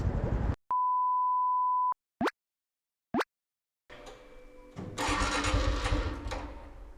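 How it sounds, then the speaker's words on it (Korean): A Honda Super Cub 110 motorcycle that will not start: a steady electronic beep, then two short starter whirs that die out, followed by rougher mechanical rumble and noise that swells louder toward the end. "시동이 안 걸리네"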